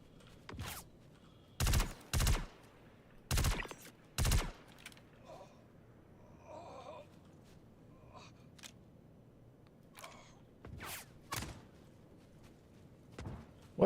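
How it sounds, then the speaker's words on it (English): Gunfire aimed at the player in Star Citizen: several separate loud, sharp shots in uneven clusters, sometimes paired close together, with quieter stretches of faint background between them. "now all of a sudden there's more shooting at me"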